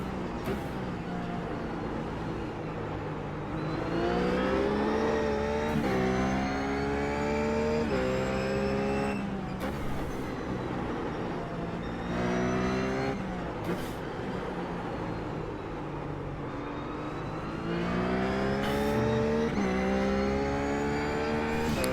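In the iRacing simulator, a RUF race car at Zandvoort screams through repeated upshifts and downshifts, its engine rising and falling in pitch in a loud, continuous lap with no talk over it.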